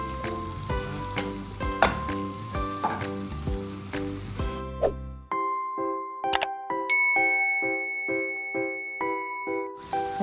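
Potatoes sizzle in a hot pan ahead of adding corned beef, with steady close frying crackle and metallic dings of a utensil against the pan, then a run of bright tinkling bell-like tones over the sizzle.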